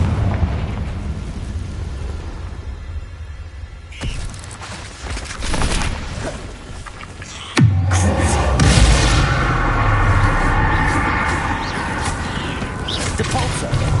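Fiery Confringo spell blasts from Hogwarts Legacy, a booming burst near 7.5 seconds followed by crackling rumble, with other loud magical bursts and effects filling the rest of the stretch.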